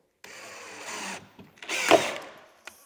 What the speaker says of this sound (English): Very important to pre-drill these holes.